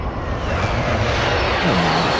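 An airstrike aircraft roars overhead in Call of Duty Warzone, a loud, dense engine rumble and broadband rush that fills the whole moment, steady and close, with no one talking.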